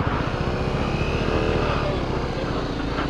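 Dual sport motorcycle, a WR250R, riding with a steady low thumping exhaust drone under rushing wind noise, continuous and fairly close.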